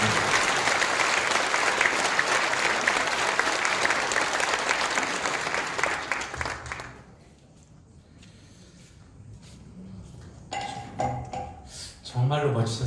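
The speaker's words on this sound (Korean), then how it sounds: "우리 나오실 때 박수를 부탁드리겠습니다" Loud applause from a crowd at an Easter church service for the first several seconds, then fading to near quiet, followed by scattered claps and noise near the end.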